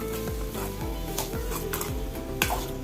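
A spoon stirs mango pickle with salt in a pan over a low gas flame, making soft, repeated scraping strokes against the metal with a faint sizzle and occasional light clinks.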